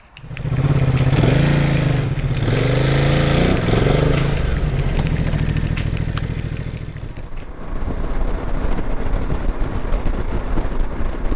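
Ducati Multistrada Enduro motorcycle pulling away, a loud close engine note revving up through a couple of rising gear pulls, then settling into steady wind-buffeted riding noise.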